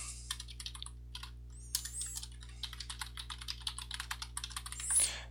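Someone types a host name on a computer keyboard, with quick, irregular clusters of close, crisp key clicks over a faint steady hum, ending with a slightly louder keystroke.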